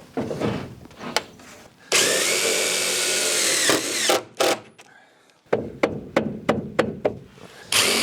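Power drill driving cladding fixings into wooden shed framing, with short bursts of knocking, a long whirring drive run partway through, then a string of sharp, evenly spaced taps and clicks close by.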